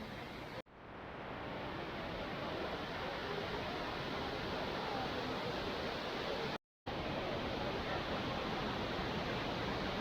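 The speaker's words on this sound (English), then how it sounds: "Impressive waterfall," Broadband roar of a waterfall at Plitvice Lakes National Park, Croatia, steady and loud from close by, filling the whole clip with continuous rushing water and no voices, apart from two brief dropouts.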